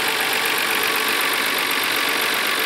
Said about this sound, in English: it looks like the engine's coughing a little bit too.